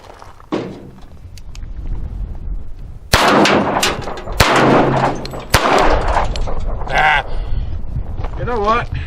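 An Astra A-75 .45 ACP pistol fires at leftover Halloween pumpkins outdoors: three loud, sharp reports spaced about a second apart, each ringing out briefly, with voices and shuffling around them.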